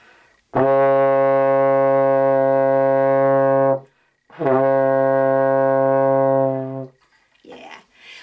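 Two long, steady low brass notes on low C, each held for a few seconds with a short break between, loud and close, followed by a brief breath.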